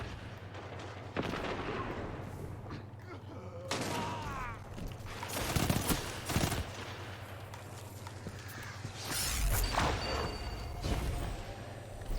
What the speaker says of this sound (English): 2 more bullets with my fusion rifle.